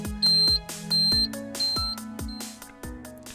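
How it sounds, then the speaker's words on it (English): Warning beeps from the air cleaner choke sensor on a Solis tractor: a series of sharp, repeating high-pitched tones, each about a third of a second long and closely spaced, ringing over a low background hum. "This is air cleaner choke sensor. When choked, you can hear the beep sound and also indication on the"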